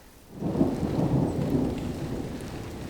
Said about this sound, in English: But the storm started.